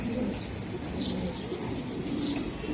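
A black original-breed racing pigeon coos softly in low, repeated murmurs over steady background noise, with faint higher chirps now and then.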